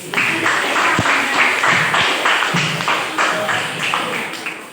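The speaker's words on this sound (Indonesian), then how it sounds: "tepuk tangan dulu" A classroom of students at a junior high school claps together, a steady, dense patter of many hands that lasts several seconds with a few sharper taps standing out.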